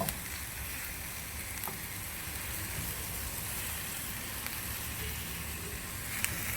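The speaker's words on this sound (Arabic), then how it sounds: "غادي نبقى نقلب فيه مزيان باش يتقلى من جوج شويه" Chicken pieces fry in a tagine and are stirred, giving a steady, moderately quiet sizzle with a few faint scrapes and clicks throughout.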